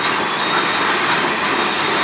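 A train rolls by in Sarnia, Ontario, close and loud, giving a steady broadband rush of wheels on rail with faint squeal and clatter.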